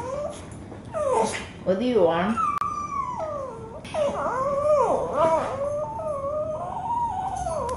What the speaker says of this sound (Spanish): tengo aquí a un pequeño perro